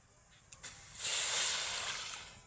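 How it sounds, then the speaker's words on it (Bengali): Water from a bowl poured onto 200 grams of sugar in a pan, a soft rushing hiss that swells after a couple of small knocks and then slowly fades, close and steady with no talk. "মানে 1 বাটি জল আমি দিয়ে দেব।"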